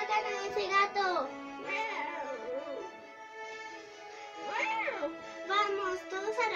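Cartoonish meows and cat-like cries rise and fall in short bursts, clear and close, over an otherwise quiet background.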